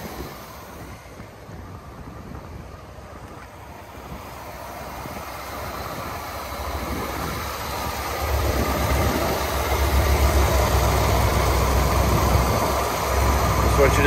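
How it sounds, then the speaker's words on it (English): A 1979 Corvette engine idles steadily with the hood open, a smooth low rumble that grows slightly louder partway through and holds a continuous tone with no break or knock. "Let me pop this hood, show you the motor as it's running."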